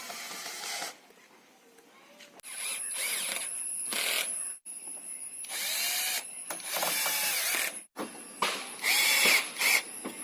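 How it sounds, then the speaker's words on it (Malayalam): A power drill drives screws into an old tyre in several separate bursts, each a loud whirring buzz with a strained, grinding pitch, separated by short pauses and clicks, recorded up close. "ടയറിൽ നല്ല സ്ട്രോങ് ആയിട്ട് നമുക്ക് സ്ക്രൂ ചെയ്യാൻ സാധിക്കും."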